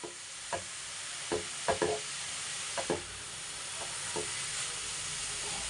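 Grated carrot fries in ghee for carrot halwa, a steady sizzle and hiss running throughout while a spoon stirs with several soft scraping taps against the pan, close and without talk.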